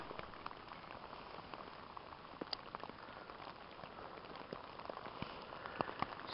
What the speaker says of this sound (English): So it's been raining for like